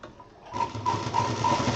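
A sewing machine stitches fabric for a thermos case, starting up after a short quiet moment and running steadily close by with a faint rhythmic ticking.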